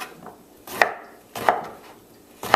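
A knife cubing eggplant on a cutting board, three sharp separate chops spaced under a second apart, close and clear with quiet gaps between.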